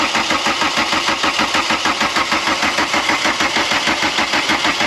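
A Volkswagen Caddy diesel engine, rescued from a scrapyard after pump and gear timing work, fires up and runs with a loud, steady rapid knocking clatter throughout, close and unbroken.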